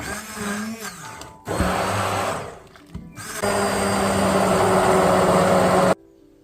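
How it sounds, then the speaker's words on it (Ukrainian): A hand blender whirs in loud bursts while blending chicken soup, stopping and starting twice, then runs steadily before cutting off abruptly. "можна його перемішати та пробити погружним блендером"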